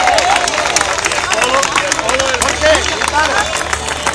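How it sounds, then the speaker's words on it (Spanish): Vigorous applause at a sailing club award ceremony, a loud, dense burst of clapping from the crowd with shouts and chatter mixed in throughout. "¡Aplauso enorme!"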